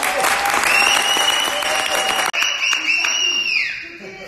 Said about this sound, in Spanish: Vamos a darles primero un aplauso.